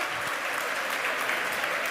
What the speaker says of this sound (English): I have a feeling the crowd's about to go wild here.